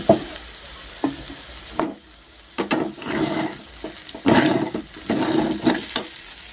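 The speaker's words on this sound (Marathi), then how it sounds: "छान मिक्स करून घेऊया आता." Sabudana khichdi is stirred and mixed in a pan, with bursts of scraping and soft sizzling that come and go irregularly, close and moderately loud.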